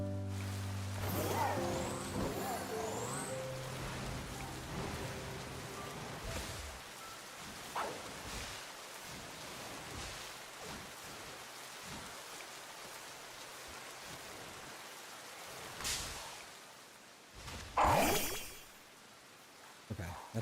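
Steady rain falls in a Pokémon video game, making a constant soft hiss throughout, with a few sharper game effects and a louder burst near the end.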